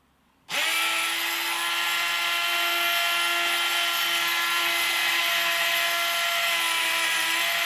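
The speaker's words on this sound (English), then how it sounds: "just the Proxon clamped on the Workmate" Proxxon rotary tool clamped to a Workmate bench, cutting abalone shell: a motor spins up abruptly and holds a steady, close, high-pitched whine with no letup.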